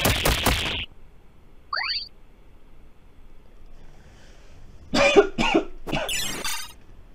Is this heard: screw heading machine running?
no